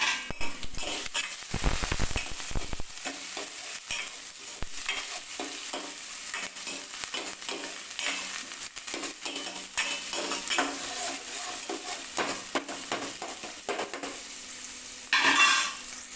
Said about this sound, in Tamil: இப்போ வெங்காயம் போட்டு நம்ம தாளிக்கிறோம்